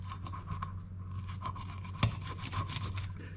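Scales being scraped off a sea mullet, caught as close, faint, raspy strokes repeating steadily, with one sharper scrape partway through.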